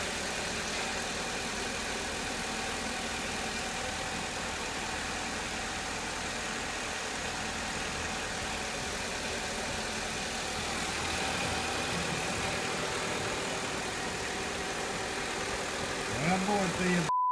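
Car engine idling steadily just after its first start following years of sitting during a restoration, a continuous close, even rumble with faint knocking, voices briefly at the end.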